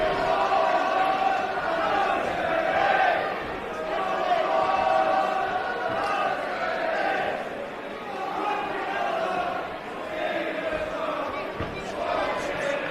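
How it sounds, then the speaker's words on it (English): Crowd at a live international boxing event in Farnworth shouts and roars continuously in a large hall, with a commentator talking over it. "can hear the crowd shouting"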